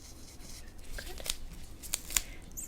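Scraping on skin in a soft-spoken medical skin examination role play: quiet, close rasping strokes with several crisp, brief scrapes near the end, no speech.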